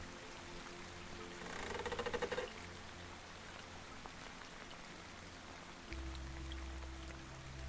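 Steady rain patters softly with distant running water beneath it, a brief heavier burst of drops rising near the start before settling back into a faint, even wash.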